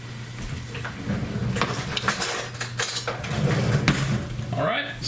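A spoon clinks against dishes and cutlery in a kitchen while a smaller spoon is fetched for soup, with steady close clattering and a voice speaking over it.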